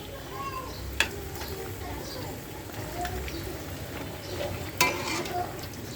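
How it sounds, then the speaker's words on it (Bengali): Pumpkin pieces frying in a pan for an iftar spread give a steady low sizzle throughout, with a couple of sharp utensil clinks cutting through; a voice talks faintly underneath. "এখন এই যে মিষ্টি কুমড়া নিয়ে ভাজতেছি"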